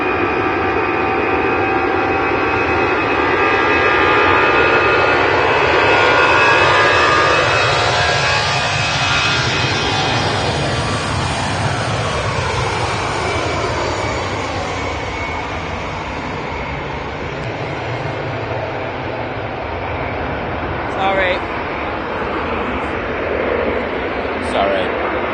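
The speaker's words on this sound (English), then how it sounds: "Let's watch this Air France go." Air France jet taking off from Manchester Airport, its engines building to a loud, rushing roar that sweeps past and slowly fades into the distance, with a person talking faintly beneath it.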